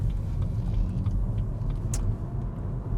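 A car pulls off into a roundabout, heard from inside as a steady, close, low engine and road rumble that holds at an even level throughout, with no talking.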